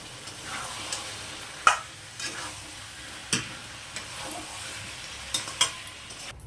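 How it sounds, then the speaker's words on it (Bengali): Spiced potatoes are sautéed in a pan with a spatula, giving intermittent scraping stirs and a few sharp clinks over a soft, steady sizzle, close and fairly quiet, with no voices. "আলুর ভিতরে মশলা দিয়ে কষিয়ে নাও"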